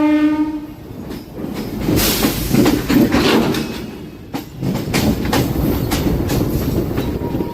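Wheels of a MEMU commuter train clatter over the rails near Vizianagaram, with loud, steady rhythmic clacks over a heavy rumble. A brief horn sounds at the very start, and no one speaks.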